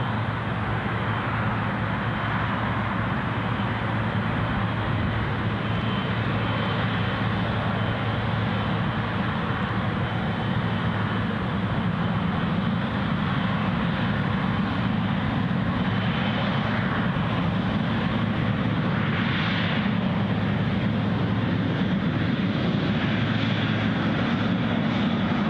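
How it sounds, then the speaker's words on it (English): Air France Embraer 190 taxiing out at Newcastle International Airport, a steady, loud engine drone and rumble with a constant low hum that holds unbroken and without voices for the whole stretch. "The Air France Embraer 190 long range has pushed back and is"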